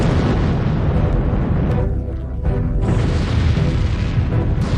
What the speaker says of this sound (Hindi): और उस धमाके की आवाज मीलों दूर तक सुनी जा सकती थी।